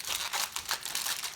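Aluminum foil crinkles and rustles in several quick bursts as it is folded around pork ribs, close and fairly soft, with no talking.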